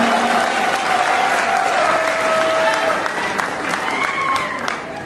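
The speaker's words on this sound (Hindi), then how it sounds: "मोहतरमा जोरदार तालियों से इस्तकबाल करें" Loud, sustained audience applause greets poet Aadil Rasheed at an Urdu Academy Delhi mushaira, dense clapping carrying throughout while a voice talks faintly underneath.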